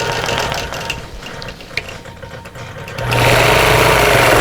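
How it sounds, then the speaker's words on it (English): A sewing machine stitches in the ditch across vintage quilt blocks, running with a steady mechanical whir that grows noticeably louder and denser for the final second and a half, with no talking. "I'm going to stitch in the ditch all the way across"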